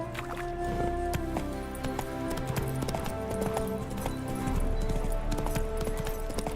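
Hooves of Roach, a horse in The Witcher video game, clip-clopping in a steady walking rhythm at close range, with soft ambient game sound underneath and no speech.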